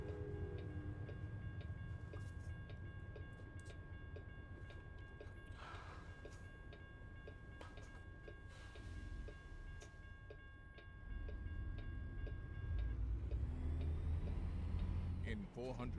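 A train rolls past in American Truck Simulator, heard from a truck cab as a steady low rumble with faint ticking and sustained tonal hum, swelling heavier and closer toward the end.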